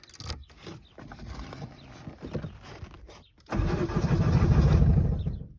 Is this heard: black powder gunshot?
no